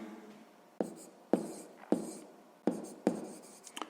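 Pen on paper as someone writes a math problem by hand: a series of five or six distinct scratchy strokes and taps in an uneven rhythm, close and fairly quiet.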